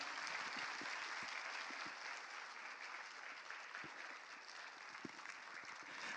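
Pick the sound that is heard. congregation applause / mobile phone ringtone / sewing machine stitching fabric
congregation applause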